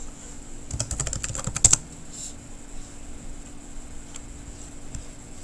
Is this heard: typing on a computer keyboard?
yes